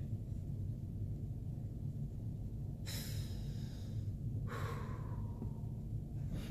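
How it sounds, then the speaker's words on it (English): Two breathy inhalations are drawn from a dry leaf vaporizer, a longer airy pull and then a shorter one, close and soft over a low steady background hum. "Then we go ahead and we inhale."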